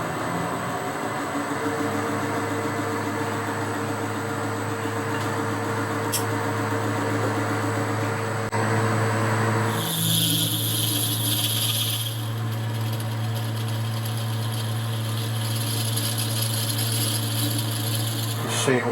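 A lathe spins at about 500 RPM, turning a plastic or nylon workpiece. Its motor drones steadily and close by, and partway through a brighter, hissing whine joins in and then carries on.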